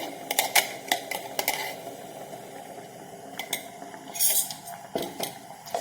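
Raw mango sharbat mixture being stirred in a pot, with a spoon clinking and scraping against the metal in irregular taps, close and fairly quiet, without any talk.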